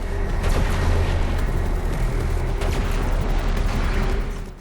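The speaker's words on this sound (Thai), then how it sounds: "ปืนใหญ่พลังงานติดไหลที่เอาไว้ใช้ยิงสนับสนุนสร้างความเสียหายเพิ่มเติม" The Atlan mech's shoulder-mounted energy cannon in Doom Eternal fires, a dense rumbling blast with a sustained roar that holds steady before tapering off at the end.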